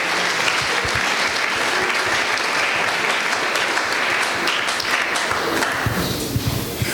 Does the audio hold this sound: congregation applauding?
yes